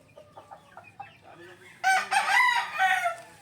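A broody hen clucks in a backyard scratch pen, a series of soft short clucks building into a loud, drawn-out agitated cackle up close.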